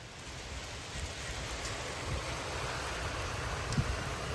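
Heavy wind-driven rain blowing sideways during a storm in Frisco, Texas, a faint, steady broadband wash of rain and wind with occasional low gusts.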